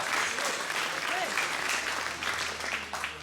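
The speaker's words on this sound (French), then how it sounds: "Allez, vous l'applaudir encore" At a theatre evening raffle, the audience applauds a winner again, a sustained, fairly loud bed of clapping with a few voices and cheers mixed in, easing slightly toward the end.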